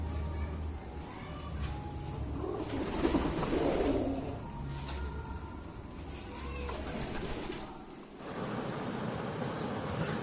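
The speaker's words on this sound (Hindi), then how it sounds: "कबूतरों को दाना देने के बाद इस तरह से उनको बुलाना पड़ता है आवाज़ देके" Pigeons come down to eat scattered grain, with cooing and fluttering wing movement amid a busy, steady background; the birds sound fairly close and carry on without pause through the whole stretch.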